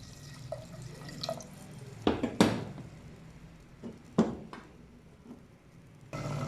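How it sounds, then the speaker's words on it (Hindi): Water poured into a pot of potatoes for egg and potato salan, heard as a few splashing bursts and trickles near the mic, loudest around the middle, with drips between them and a steady pour rising at the end. "अभी मैं इसमें पानी डालने लगी हूँ ताकि आलू गल जाए"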